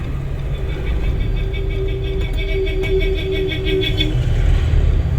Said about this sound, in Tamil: வண்டி நம்ம ஆஃப் பண்ணவே இல்லை